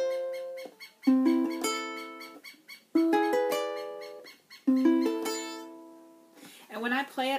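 Ukulele plucking the chords of a song, clear bright strums and picked notes in several phrases separated by short pauses, close and alone with no talking.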